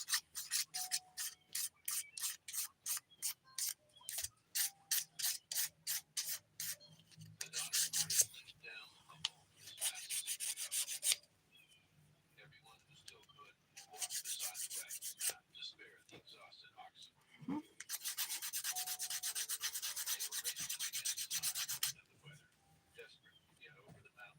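A nail file's 180 grit side rasps across dip powder nails in quick, even strokes, then in longer continuous passes that pause now and then, close and fairly quiet.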